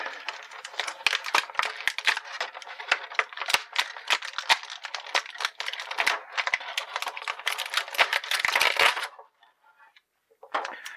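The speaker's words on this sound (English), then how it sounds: "So go ahead and cut those rubber bands off and pull the figure out." Rubber bands are cut and an action figure is pulled from its plastic packaging, making dense rapid crinkling and plastic clicks and snaps close up, then a short pause and a final rustle.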